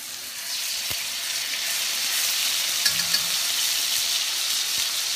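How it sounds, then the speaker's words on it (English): Ginger and garlic sizzle steadily in hot oil for a stir-fried vegetable chow mein, a close, continuous frying hiss with a few faint clicks and no voices. "our oil is really nice and hot. So at first what I'm going to do is I'm just going to go ahead and add just a little bit of ginger and garlic in here."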